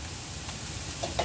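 Tomatoes tipped into a hot pan for eggs in purgatory give a brief, quiet, steady sizzle with a couple of small hissing pops near the end.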